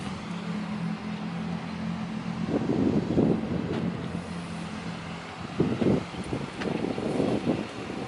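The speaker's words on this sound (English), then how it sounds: "And now the wind's back." Wind blows steadily across the microphone outdoors, a broad continuous rumble with gusty swells that rise and fall throughout.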